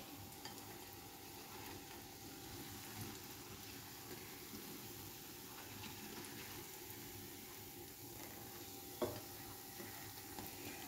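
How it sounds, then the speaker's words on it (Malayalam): Eggs deep-fry to a crisp in hot oil, giving a steady, soft sizzle with faint bubbling and occasional small pops and stirring clicks, continuous and fairly quiet throughout. "അങ്ങനെ നമുക്കെല്ലാ മുട്ടയും ക്രിസ്പി ആയിട്ട് വറുത്തെടുക്കാം"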